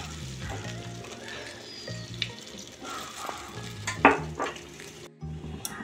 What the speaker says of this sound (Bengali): দেখুন অল্প পরিমাণে একটু জল দিয়ে দিচ্ছি